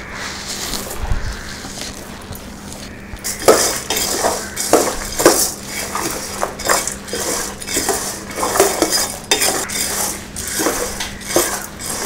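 Chana dal and coriander are stirred in a pan over a low flame, with a spoon scraping and clinking against the metal in repeated short strokes amid a faint continuous hum.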